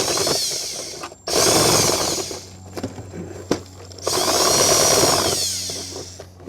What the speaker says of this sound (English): Now I'm going to make this hole bigger with the included spade bit that comes with the Starlink kit